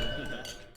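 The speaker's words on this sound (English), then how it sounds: "let's raise a glass to Constance the badass and her house husband, Andy." Glasses clink briefly in a single short chime during a wedding toast in the Dominican Republic, with voices talking over it.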